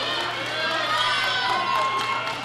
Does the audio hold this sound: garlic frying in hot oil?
no